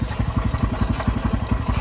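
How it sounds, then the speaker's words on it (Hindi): A Bajaj Pulsar NS motorcycle engine idles close by, with a steady, rapid low chugging pulse running throughout without any talk over it. "तो अभी इंजन नॉइस सुन पा रहे होगी सब लोग।"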